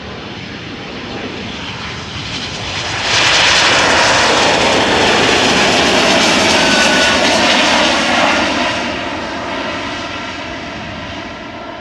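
A Boeing 777 jet airliner roars through its takeoff at Amsterdam Schiphol Airport, a broad rumbling whine that swells to full loudness and holds steady, then eases slightly as it continues.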